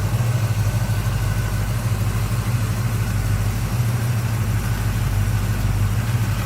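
A small-block V8 engine in a 1969 Chevrolet Chevelle Malibu convertible idles smoothly and steadily, a deep low rumble holding even throughout with no revving.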